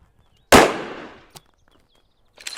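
A single loud rifle shot cracks at a shooting range and its echo dies away over about a second, followed by a short sharp click and a faint metallic rattle near the end.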